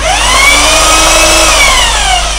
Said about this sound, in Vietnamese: rồi ok chiếc năng khoan thường